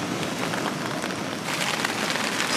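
Rain falls steadily on a hiking trail while dinner is being cooked outdoors, a dense and even hiss of drops close by with no voices.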